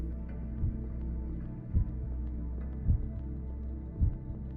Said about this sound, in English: Hear a heartbeat.